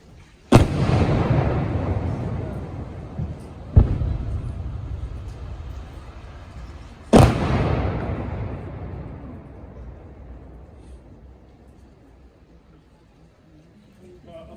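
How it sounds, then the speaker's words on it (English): Three loud demolition blasts from C4 and other expedient charges at an Army Ranger demonstration, each a sharp crack followed by a long rolling rumble that slowly fades, spaced a few seconds apart outdoors. "You'll also witness the explosion of other expedient charges."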